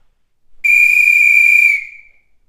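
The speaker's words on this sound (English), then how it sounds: "Then she took out her silver whistle and blew a blast on it." A single sustained blast on a silver whistle, loud and piercing, held steady for about a second before it trails off. No other sounds accompany it.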